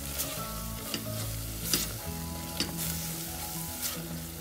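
Spices being stirred into a cooking pot of spinach rice khichdi, with coriander, cumin, red Kashmiri chili powder and salt, give a steady sizzle and frying hiss. Several scraping stirs of the spoon stand out, close and moderately loud, with no talk.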